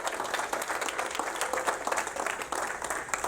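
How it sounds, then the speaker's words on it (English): A seminar audience at a real estate event gives a round of applause for Mike and his team, a continuous wash of many hands clapping at moderate volume with no break. "Give Mike a huge round of applause for taking care of you this morning."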